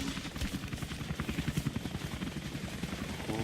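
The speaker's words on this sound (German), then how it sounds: "Hubschrauber." A helicopter in the video game Rise of the Tomb Raider thumps with rapid, rhythmic rotor beats, a steady chopping pulse close and moderately loud, heard alone without talk.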